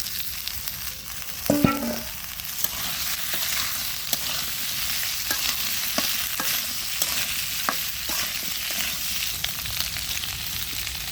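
Potatoes fry in a pan with garam masala, a continuous hiss of sizzling oil with a few clinks and scrapes of stirring, close and steady, no voices.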